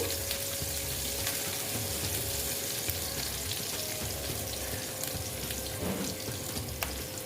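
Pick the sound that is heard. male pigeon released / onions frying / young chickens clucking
onions frying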